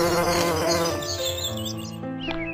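Honeybees buzz around sunflowers in a loud, continuous drone, with several overlapping wingbeat tones that shift in pitch as individual bees fly close by and then away.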